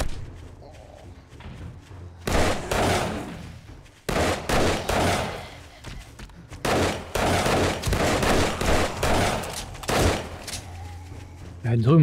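Gunfire in the survival game 7 Days to Die played in VR during a horde night outdoors, heavy repeated shots in uneven bursts, loud and close, with voices talking around them.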